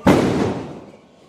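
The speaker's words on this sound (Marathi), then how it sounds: "हे पोरगेले फटाके वाजवायले," Boys set off a firecracker during a Tulsi Vivah celebration: a single loud bang nearby, followed by a rumbling, echoing tail that fades within about a second.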